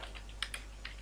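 Computer keyboard being typed on while writing code comments, a few quiet scattered keystrokes heard close up against a low background hum.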